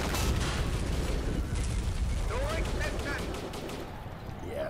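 Artillery barrage in the tank game Steel Fury Kharkov 1942: dense, continuous rumbling bursts of gunfire and blasts with mechanical clatter, someone speaking over the din.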